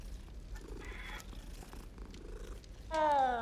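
A cat purrs softly in Hogwarts Legacy, a low continuous rumble under quiet game ambience, followed near the end by a brief louder tonal sound.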